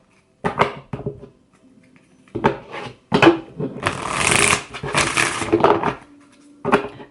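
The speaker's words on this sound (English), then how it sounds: "I did pre-shuffle all of these decks, but I always just like to shuffle on camera." Tarot card decks being shuffled by hand in repeated bursts of riffling and sliding cards, close and crisp, with short pauses between shuffles and no speech.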